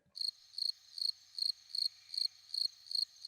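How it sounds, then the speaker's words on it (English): Cricket chirps as a sound effect, a clean, regular series of about eight short high trills pulsing evenly, with no talking over them. "Just crickets. I wish I had a crickets one."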